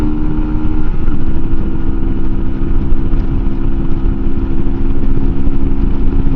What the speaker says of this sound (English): I will take it up to red line just to give me a bit of an advantage on the gear change.